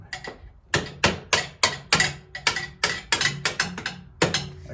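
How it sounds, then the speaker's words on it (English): A hammer strikes a part on a 2008 Suzuki Burgman 400 scooter engine in a quick, close run of about fourteen sharp metallic blows, evenly paced with brief ringing between hits. "never had to hit anything real hard with the hammer"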